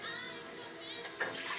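Water poured into a cooking pot for boiling orzo, a short, fairly faint splashing stream with a slight rise in pitch as it fills, with a voice briefly in the background.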